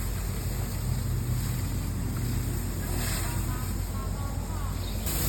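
A firefighting drone blasts water under high pressure, producing a loud, steady, wind-like rushing hiss that runs unbroken from start to finish.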